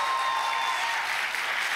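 Applause at a Polish stage comedy show with a highland folk band, a steady wash of clapping filling the short stretch without a break.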